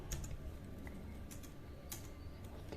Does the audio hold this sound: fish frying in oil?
no